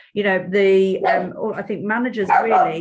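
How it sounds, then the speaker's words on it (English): A pet dog barks and yips close by in a room, several sharp barks with a whining edge, overlapping someone talking. "sorry, that's my dog, I'm so sorry"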